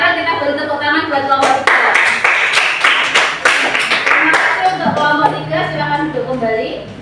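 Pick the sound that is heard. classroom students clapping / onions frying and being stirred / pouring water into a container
classroom students clapping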